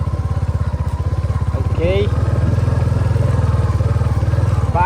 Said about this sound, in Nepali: हामी जाँदैछौँ भोट हाल्नलाई सरर बुलेट बाइक चढेर।